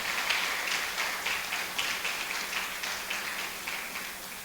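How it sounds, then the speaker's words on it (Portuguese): A church congregation applauding together, a steady wash of clapping from many hands heard alone at even loudness throughout. "Pode aplaudir o Senhor."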